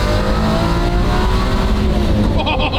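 A twin-turbo Ferrari F12 V12 bounces against its 8,000 rpm rev limiter, a loud, close, sustained high-revving roar with rapid stuttering cuts near the end.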